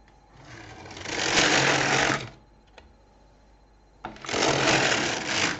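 An LK 150 knitting machine carriage passes across white rows in two close, rough whirring sweeps, each about two seconds long, separated by a quiet pause with a small click.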